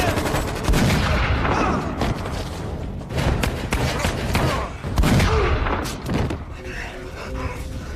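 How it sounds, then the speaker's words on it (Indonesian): Shotgun blasts ring out in a film fight scene as a gunman takes down henchmen one by one, several loud sharp reports mixed with thuds, movie score and voices. "Dengan shotgunnya, dia menghabisi satu persatu anak buah Jay."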